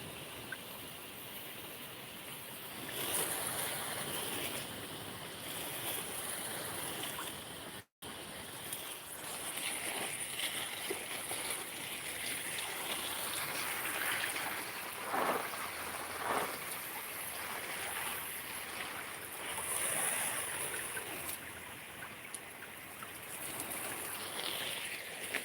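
A steady, soft spray of water patters over garden plants in the chilly dawn, a continuous trickling hiss with faint outdoor ambience and a brief dropout partway through.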